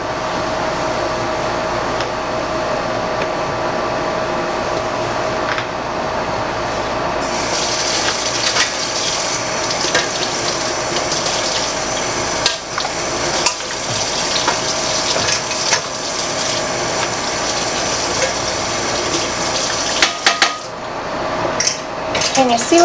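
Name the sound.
rinsing canning jars and racks under running water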